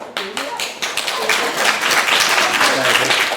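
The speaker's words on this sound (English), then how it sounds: "don't you lot be clapping for Delia here." An audience at a Puss in Boots pantomime claps steadily throughout, a dense patter of many hands that swells slightly toward the end.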